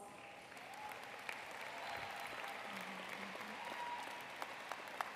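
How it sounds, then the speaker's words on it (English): Steady, faint applause fills the hall at a 60th commencement ceremony, an even wash of clapping from a distant crowd holding for the whole stretch with a few sharper claps poking through. "can we give him a round of applause?"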